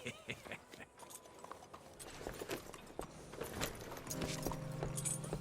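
Horse hooves clip-clop in a steady walking rhythm in the video game Red Dead Redemption 2, mixed with light jangling and a faint tonal hum, no speech.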